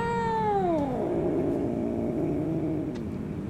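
A cat lets out one long, falling meow that slides into a low growl in the video game DreadOut 2, close and loud over steady background noise.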